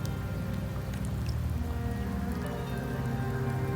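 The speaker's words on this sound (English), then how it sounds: "The rains in Septimont never seem eager to leave this season." Steady rain patters on surfaces in the rainy region of Septimont in the game Wuthering Waves, a dense even hiss with low rumbling underneath, heard alone without voices.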